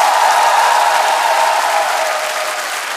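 A television studio audience at a Russian evening entertainment show claps steadily in dense, loud applause that fades slightly toward the end.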